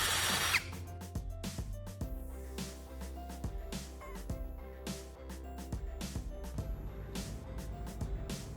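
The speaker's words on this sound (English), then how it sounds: "using a step drill bit, I'm going to carefully drill a large hole in the center of its base." A power drill with a step drill bit whirs steadily, biting into the thin aluminum base of a can with repeated rattling, grinding bursts and short pauses throughout.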